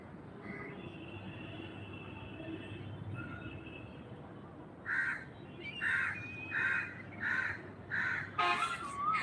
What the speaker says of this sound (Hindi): हाँ पंछी बोल रहे हैं।